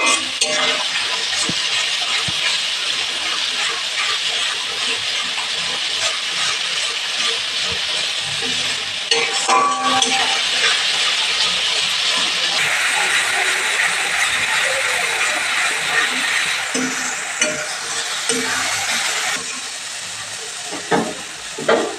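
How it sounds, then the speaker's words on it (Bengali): A spice paste of tomato pieces, salt and turmeric fries in a pan for a fish curry, hissing and sizzling steadily up close for a long stretch, with occasional stirring scrapes and shifts in intensity. "এই মশলাটাকে ভালো করে এবার কষিয়ে নেব"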